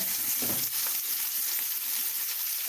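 Onions frying steadily in a pan during dinner preparation, a loud, constant hissing sizzle close by that fills the whole clip with no pauses.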